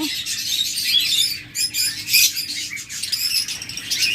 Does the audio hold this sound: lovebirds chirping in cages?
yes